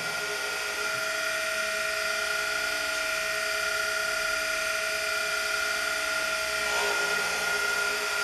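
A slipper-making machine cutting a pair of slippers at once, producing a steady high-pitched electric whine with a constant tone and a slight shift near the end.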